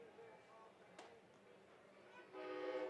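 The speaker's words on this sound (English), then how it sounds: "The train is here, and it is going crazy." A train passes near a minor-league baseball stadium, its horn sounding in distant, faint tones that swell louder toward the end.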